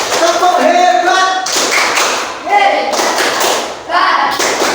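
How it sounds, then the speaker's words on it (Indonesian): Bursts of hand clapping from a group come in several rounds, separated by brief pauses, fairly loud and close. "Tepuk tangan untuk kita semua."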